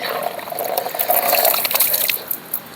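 Cold water splashes and trickles close by in uneven bursts, like hands scooping water onto a face over a basin, with no talking.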